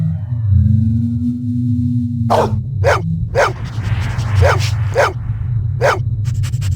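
A dog in the Blade Runner video game barks about six times in a steady, loud, close series over a low constant hum.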